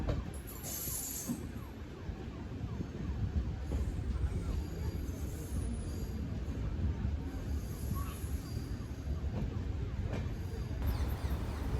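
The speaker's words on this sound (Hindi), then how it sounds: "फ़िलहाल अजमेर जंक्शन पर ट्रेन का अराइवल हो रहा है" A train pulls into Ajmer Junction in Rajasthan, giving a steady, low rumble that holds level for several seconds, with faint higher tones above.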